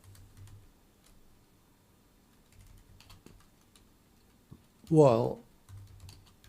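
Quick keystrokes tapped on a computer keyboard during a live C++ coding session, soft close clicks in short bursts, with a brief spoken word breaking in midway.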